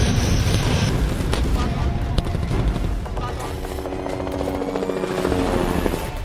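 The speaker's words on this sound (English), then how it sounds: "you can see the Rudra helicopter of the aviation of Indian Army" An Indian Army Rudra helicopter flies at the Pokhran integrated firepower demonstration, its loud, continuous rotor thrum mixed with bursts of firing, while a voice talks over it.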